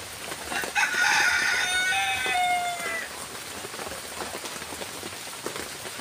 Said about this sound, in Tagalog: hindi na tumikila yung ulan